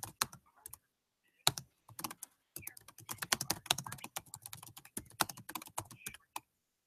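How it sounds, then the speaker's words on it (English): Quick, irregular keystrokes on a computer keyboard as a question is typed in, tapping close and clear in bursts separated by brief pauses. "so we type our question"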